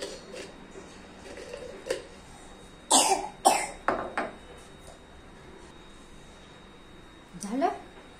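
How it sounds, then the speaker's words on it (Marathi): Someone coughs indoors in a home, a couple of sharp nearby bursts close together, then quieter coughs and a later one, with light household knocks between. "खोकला कोणाला येतो?"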